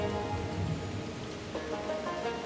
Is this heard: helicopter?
no